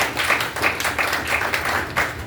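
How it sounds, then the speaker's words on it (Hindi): An audience at a speech gives steady, dense applause for Sushma ji, many hands clapping together close by with no voices over it. "तालियां एक बार सुषमा जी के लिए आपसे चाहता हूँ मैं"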